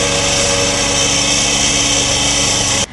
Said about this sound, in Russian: Спасатели демонтируют рекламные щиты с помощью дисковой пилы и гидравлических ножниц.